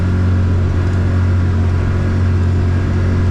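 A Glasply 19 boat with its outboard motor running steadily underway while the motor is trimmed, giving a loud, continuous low engine drone with a strong steady hum and no talk.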